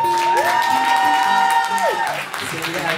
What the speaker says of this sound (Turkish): Ben önce orkestra arkadaşlarım için kocaman bir alkış alabilir miyim?